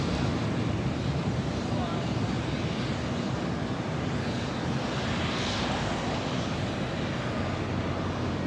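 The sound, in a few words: Air Canada Airbus A321 taking off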